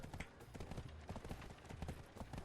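Horse hooves pounding in a steady galloping rhythm from the Black Desert Online video game, close and fairly loud, with game ambience and some faint background sound mixed in.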